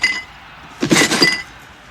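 A package kicked by a delivery person at a door, with a short burst of clinking, breaking contents inside, one cluster of crunchy rattles about half a second long, fairly close, with no talk.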